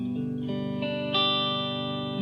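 A single guitar chord is strummed once with all the strings ringing out clearly, then held. A bright, sustained tone decays slowly with a clean finish.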